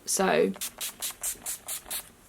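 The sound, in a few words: NYX setting spray being sprayed on face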